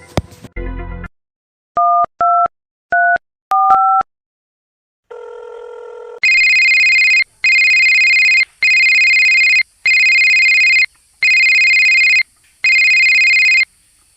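A phone call to a friend begins with a few short dialing beeps and tones, then a loud electronic ringback repeats in regular even bursts with brief gaps.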